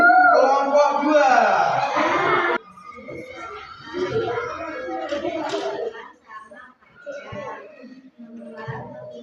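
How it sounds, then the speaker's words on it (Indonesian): A classroom of students claps for group 2, a short lively burst of hand clapping for a couple of seconds that gives way to children and an adult talking. "Tepuk tangan untuk kelompok 2"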